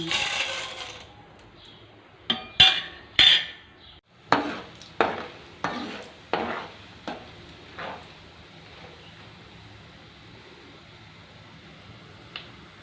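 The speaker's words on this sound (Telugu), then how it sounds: "ఆయిల్ వేసేసి ఇందులో తాలింపు గింజలు వేసేద్దామండి పచ్చనపప్పు మినప్పప్పు ఎండుమిర్చి జీలకర్ర" Tempering seeds of chana dal, urad dal, dried red chillies and cumin hit hot oil in a pan for a Telugu bitter gourd curry, giving a row of sharp crackles and pops over a steady faint sizzle, with no talk.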